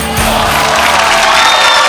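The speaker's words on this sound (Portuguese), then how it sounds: "A torcida grita, cumpai." A loud, dense crowd roars, shouts and cheers without a break at a fight event, the noise close and overwhelming throughout.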